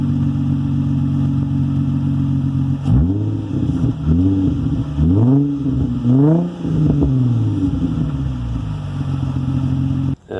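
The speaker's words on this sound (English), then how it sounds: "Stock exhaust has been chopped below the diff. Doesn't sound too bad, but it does drone at speed." A Nissan Z33 with its stock exhaust chopped below the differential idles, then is blipped through several sharp revs and falls back to a steady idle, loud and close.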